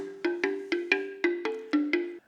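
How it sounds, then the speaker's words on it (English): Eight hollow, woody drum strikes in a steady rhythm, each with a warm pitched tone that decays quickly, close and clear. "which was the log drum, which I recorded first after the loop."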